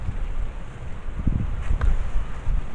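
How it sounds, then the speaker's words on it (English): Gusting wind buffets the microphone outdoors in loud, uneven low rumbles, swelling and easing continuously throughout with no voices. "Apparently the wind wants to make a grand entrance into my video."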